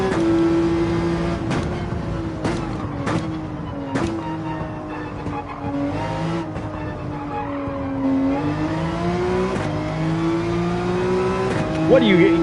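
A Mustang race car engine pulls hard at Road Atlanta, its tone climbing and dropping through gear changes as it accelerates near and loud, with someone talking over it.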